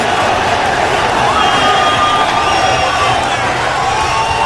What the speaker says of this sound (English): we are set in front of an enthusiastic crowd here at the Arco Arena